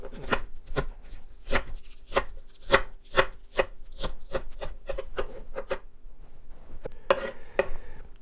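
Knife whacking and chopping vegetables on a cutting board while making a quick kale, mackerel and tomato soup: a steady run of about fifteen sharp, close knocks, spaced evenly at first and then quicker, followed by a burst of scraping.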